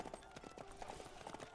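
Horse hooves clip-clop in the Samurai Warriors 5 video game, a quick uneven run of hoofbeats at moderate distance over a faint background bed, all within a short moment.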